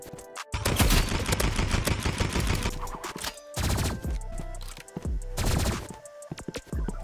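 Energy pistols fire in the Roblox game Rivals, rapid bursts of shots in several loud volleys separated by brief gaps, close and dense like a fusillade.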